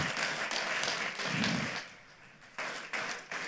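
An audience applauds after a talk, a fairly faint patter of many hands clapping that swells and then thins out.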